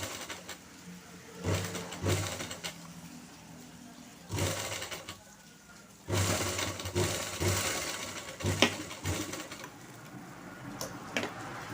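A sewing machine stitches a sleeve in short whirring bursts separated by pauses, fairly close and moderately loud, with a voice speaking between and over the runs.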